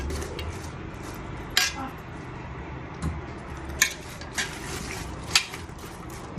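Spoon stirring a mix of oils in a bowl, a handful of light metallic clinks and scrapes spaced a second or so apart over a quiet kitchen background.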